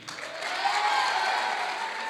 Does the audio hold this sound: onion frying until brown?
no